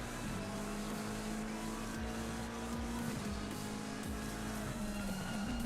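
Race car engines roar continuously in Assetto Corsa Competizione at Spa, a steady high-revving drone with shifting pitch as several cars run close together, loud and unbroken with no talking.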